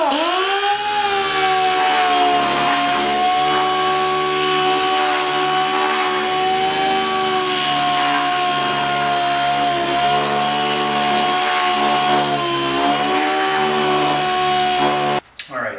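A random orbital sander smooths out divots in a homemade cedar wakesurf board, giving a close, steady, loud whine that holds evenly for about fifteen seconds before cutting off at the end.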